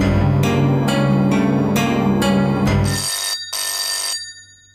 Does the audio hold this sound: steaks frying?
no